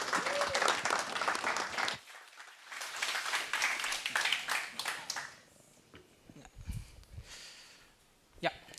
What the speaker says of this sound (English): Please, big applause.